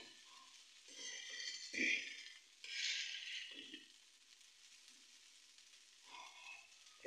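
Noodles cook in a pan in a home kitchen in Khulna, with quiet bursts of frying sizzle and stirring scrapes coming and going, faint and close, between soft utensil clinks.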